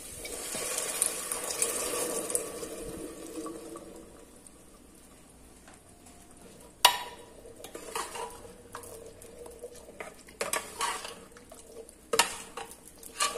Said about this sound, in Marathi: छोले छान मिक्स करून घ्यायचे मसाल्यामध्ये